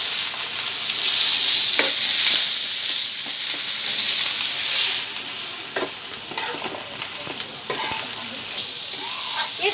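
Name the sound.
spices for chhole masala frying and stirred in pan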